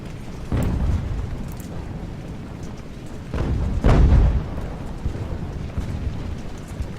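Deep booms of sailing-era naval cannon fire in the video game Ultimate Admiral: Age of Sail go off two or three times, each a heavy thud with rumbling tail over a low, continuous background roar.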